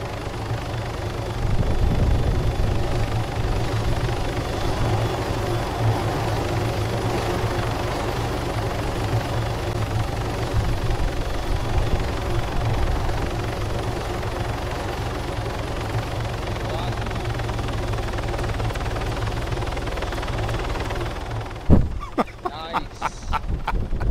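A helicopter in the video game ARMA 3, its steady low rotor thump and engine drone running continuously and close, with a few sharp clicks and knocks near the end.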